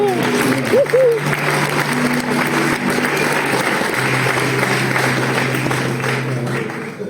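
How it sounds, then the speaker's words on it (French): Steady applause from a large church audience fills the whole stretch, with a brief sustained tone and a low hum underneath. "Et vous applaudissez"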